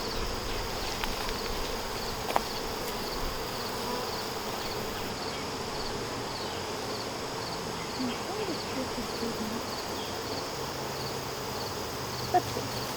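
Honeybees buzz steadily around an opened hive during an inspection, a dense, continuous drone close by with a couple of brief knocks, rising slightly as the colony grows agitated.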